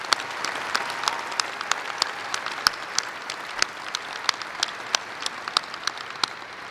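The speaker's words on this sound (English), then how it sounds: "Let's give them another round of applause." Applause for a wind ensemble at a university commencement ceremony, an indoor crowd clapping steadily with a few distinct sharp claps standing out, moderately loud and sustained with no talk.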